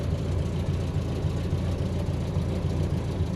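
A 1965 Land Rover Series IIA engine idles just after starting, running a little rough with a close, continuous low rumbling chug and slight unevenness, no voices.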